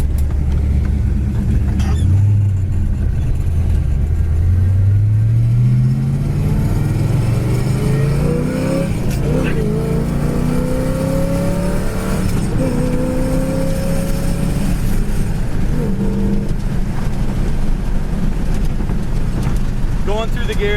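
A 1972 Pontiac GTO Judge engine roars loud and close, rising in pitch through several gear changes with a steady rumble beneath, and no talk.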